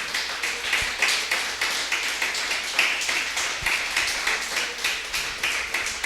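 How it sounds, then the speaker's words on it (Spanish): A church congregation claps in a steady, rhythmic beat, many hands together, sustained and fairly loud the whole time. "Dale un fuerte aplauso a nuestro Señor."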